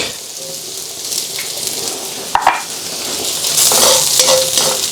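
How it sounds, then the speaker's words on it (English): Ginger and garlic hit hot, smoking oil in a pan with a loud, steady sizzle, broken by a sharp clack of a utensil midway and a surge of frying noise toward the end. "The first things that go into the hot oil, you can see it smoking away, are our aromatics, the ginger"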